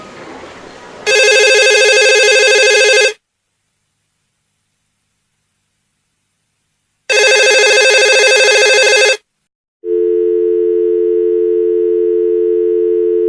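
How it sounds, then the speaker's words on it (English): A telephone rings twice in long electronic bursts separated by silence, followed by a steady low busy tone on the line, in a radio play. "Ringing Murray Hill 40098."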